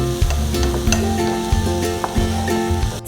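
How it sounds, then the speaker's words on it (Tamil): Tomatoes saute in a pan, a continuous close sizzle with occasional soft stirring knocks. "இப்போ இது தக்காளியோட பச்சை வாசனை போகிற வரைக்கும் நீங்கள் இதை கொஞ்சம் வதக்கிக்கணும்."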